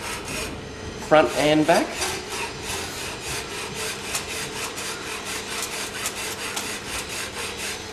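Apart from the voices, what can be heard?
filing a bike brake part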